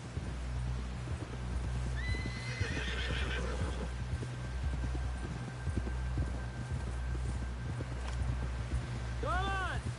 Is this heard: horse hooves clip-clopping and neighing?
yes